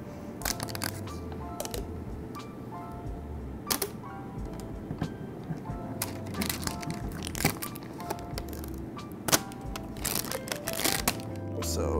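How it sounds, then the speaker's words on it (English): Crinkly plastic packaging is pulled off an Amazon Fire TV Cube, making close, irregular crackles and sharp snaps throughout with no talking. "let's unwrap this guy and take a closer look here. It's so crinkly."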